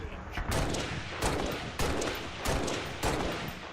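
DMR rifle fire in Halo: Reach Firefight, several sharp single shots spaced about half a second to a second apart, loud and punchy over a steady background game din.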